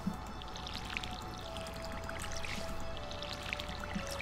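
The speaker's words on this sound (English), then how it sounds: "Give me my watering can. I gotta water crops today" In the farming game Stardew Valley, a watering can pours steadily over crops, a continuous light splashing trickle with faint chiming blips sprinkled through it.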